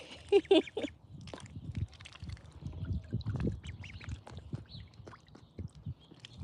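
Young ducklings on a homestead giving soft airy squeaks and peeps, a scatter of small calls near the start and through the middle over faint low rustling and shuffling.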